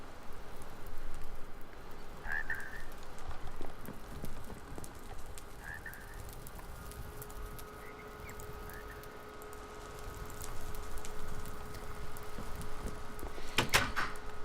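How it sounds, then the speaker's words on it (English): Rainy, snowy weather in the Minecraft mod TerraFirmaCraft makes a steady soft hiss of rain, with a few faint scattered clicks and a sharper crackling burst near the end, and no voices. "always snowing and raining"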